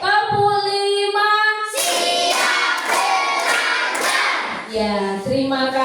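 A class of schoolchildren bursts into rhythmic clapping for a group that has just performed in a lesson, the claps running in a quick, counted beat under chanting young voices, framed before and after by sung or called-out tones.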